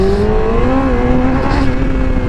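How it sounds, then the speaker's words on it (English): Yamaha R6 motorcycle engine revving hard and pulling, its pitch rising and sliding steadily as the rider accelerates on rough roads, loud and close with no talk. "This R6 is pretty fast, man. It doesn't take much and it's trying to spin the tire."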